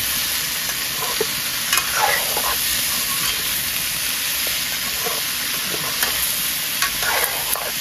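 Food boiling and cooking in a pot, with a constant loud hiss of steam and bubbling and occasional soft scrapes and knocks of stirring.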